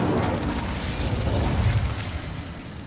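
The Incendio fire spell in Hogwarts Legacy makes a steady, loud, roaring burst of flame with a deep rumble, sustained for a few seconds before easing slightly.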